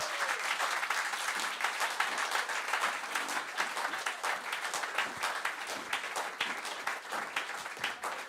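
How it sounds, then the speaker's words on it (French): A church congregation applauds and cheers during a worship service, a dense, sustained roar of clapping that fills the whole stretch without a break. "Acclamons très fort le Seigneur Jésus"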